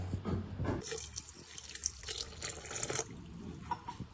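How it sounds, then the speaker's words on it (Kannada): Water poured into thick paddu batter, a close splashing, gurgling stream that starts with a short thud and runs steadily, quiet and unbroken, without any talk. "ಇವಾಗ ನೀರು ಹಾಕ್ತಾ ಇದ್ದೀನಿ"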